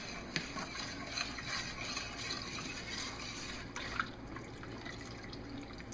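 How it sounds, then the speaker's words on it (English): Homemade laundry soap mixture of borax and washing soda being stirred in about six cups of water, giving a steady faint liquid swishing with a few small drips and clinks, fairly quiet and continuous throughout. "Stir this a little bit."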